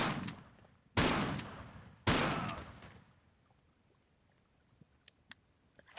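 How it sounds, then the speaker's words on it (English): Guns firing in a Tomb Raider custom level, Return To The Pacific: Dutchy's Rescue, Level 3: The Rescue. Two loud, separate shots about a second apart each ring out and fade, then small faint clicks follow. "draw guns, and quickly shoot"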